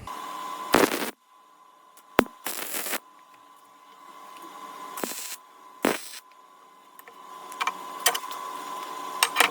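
Tack welding on a steel welding table in a workshop: several short, loud crackling bursts of arc welding, each lasting under a second, separated by quiet pauses, with a steady faint hum underneath and no talk.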